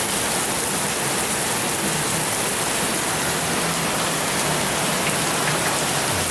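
Heavy tropical-storm rain from Tropical Storm Andrea pours steadily onto a waterside deck near a seawall, a loud, dense, unbroken hiss with no voices.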